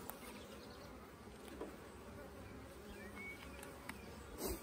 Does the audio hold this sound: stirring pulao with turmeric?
no